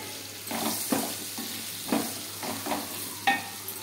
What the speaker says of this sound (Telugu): సన్నగా తరిగిన పచ్చిమిర్చి, ఆనియన్స్, దంచి పెట్టుకున్న వెల్లుల్లి, జీలకర్ర, ఆవాలు అన్నీ వేసి బాగా ఫ్రై చేసుకోవాలి